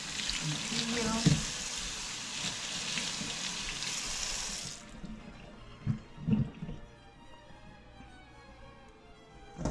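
Squash rinsed under a running kitchen tap, a steady rush of water for several seconds that stops, followed by soft handling knocks and clatter nearby.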